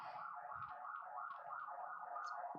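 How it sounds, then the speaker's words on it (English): A police car siren wails outside, faint and distant, its warbling tone rising and falling steadily, with no talking. "Everyone's enjoying the nice police siren."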